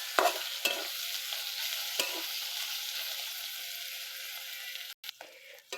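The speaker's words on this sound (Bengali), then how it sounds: "এবার স্বাদ মতো লবণ আর দেব হলুদ গুঁড়ো। এভাবে ভালো করে ভাজিয়ে নিতে হবে।" Meat frying in a pan with salt and turmeric powder, stirred steadily: a constant hiss of sizzling with a few sharp scrapes and clanks of the spoon near the start and end, close and alone.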